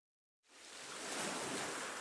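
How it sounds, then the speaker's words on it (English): Ocean waves from the video game Voice of Cards: The Forsaken Maiden rise out of silence into a steady, broad wash of surf that swells and holds, soft and alone with no voices. "Yeah, you can hear the sound of the waves."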